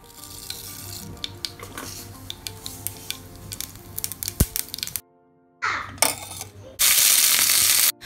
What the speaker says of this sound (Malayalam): അപ്പോൾ ഒന്ന് തിളച്ചതിന് ശേഷം കടുക് വറുത്തെടുക്കുകയാണ്.